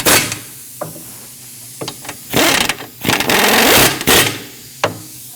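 Bolts being snugged by hand tool on a 2014-2023 Jeep Cherokee rear brake caliper bracket, with several short metallic clicks and a few longer ratcheting bursts in close, loud succession.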